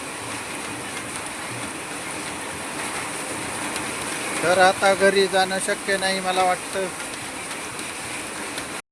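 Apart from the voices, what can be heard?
heavy rain falling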